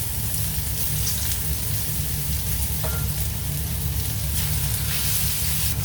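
Ginger and sautéed ingredients fry in hot oil for a mung bean dish, giving a steady close sizzle with occasional stirring scrapes and no break in the crackle.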